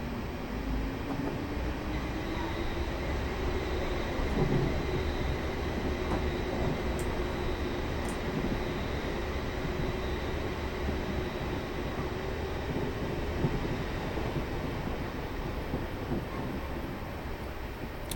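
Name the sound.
Class 450 electric train running, from the video game Train Simulator 2020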